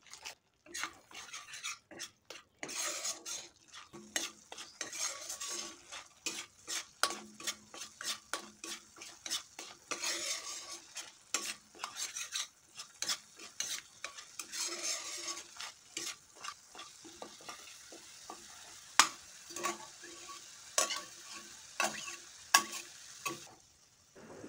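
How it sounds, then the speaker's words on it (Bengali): Spices with dried chilli powder and potatoes cooking in a pan over medium heat, a soft sizzle under repeated scraping and clinking of a spoon against the pan, irregular stirring strokes throughout. "মশলাটাকে একটু সময় নিয়ে মিডিয়াম আঁচে ভালো করে কষিয়ে নিতে হবে"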